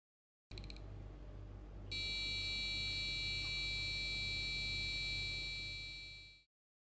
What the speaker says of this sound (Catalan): En el nivell 3 vegem altres components com el bàser, un brunzidor.